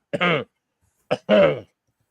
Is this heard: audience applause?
no